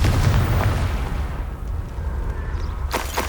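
A Confringo blasting curse explosion in Hogwarts Legacy, a loud booming blast that rumbles and fades, with a short whoosh trailing off near the end.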